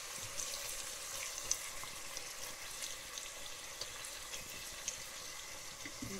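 Chicken meat sizzles gently with vegetables in a frying pan, a steady, quiet crackle and hiss with occasional small pops and no talking.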